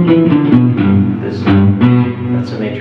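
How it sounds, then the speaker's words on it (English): Electric guitar plays a major third interval as a blues-style bass line, with loud, slightly distorted paired notes repeating in a steady pattern and no voices. "That's a major third."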